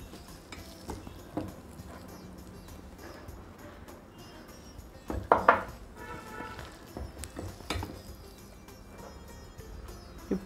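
Onion bhaji batter is mixed in a bowl with light scraping and tapping from a spoon, including one louder clatter against the bowl midway, all close and quiet with no one talking.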